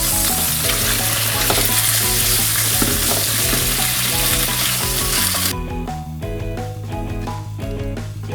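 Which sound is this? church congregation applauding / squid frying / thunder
squid frying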